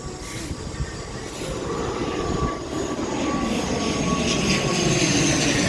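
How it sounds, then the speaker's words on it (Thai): A fixed-wing airplane flies low on its landing approach to Koh Samui, a steady broad engine roar that slowly swells and stays loud throughout. "เพิ่งบินลงเกาะสมุยนะครับ ผ่านวัดพอดีเลย"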